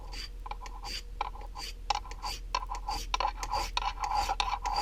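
Knife edge being sharpened by hand in the field, a steady series of short scraping, rasping strokes, close and fairly quiet, with no talk.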